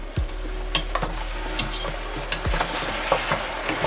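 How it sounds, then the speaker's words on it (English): Jamaican stew pork browning in a pot, stirred with a spoon that scrapes and clicks now and then over a steady, close sizzle, with no talking. "So I'm going to give it a stir now to see if they start getting color."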